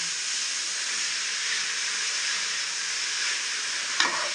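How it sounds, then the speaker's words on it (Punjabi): Carrots and sugar roasting in a pan for gajrela, made without milk, give a steady broad sizzling hiss that holds evenly throughout, with a brief stir or scrape near the end and no voices. "ਮਿਕਸ ਕਰਕੇ ਭੁੰਨਾਂਗੇ ਜੇ ਗਾਜਰਾਂ ਨੂੰ ਕਿਉਂਕਿ ਖੰਡ ਨੇ ਆਪਣਾ ਪਾਣੀ ਵਿੱਚ ਛੱਡਣਾ ਹੁੰਦਾ"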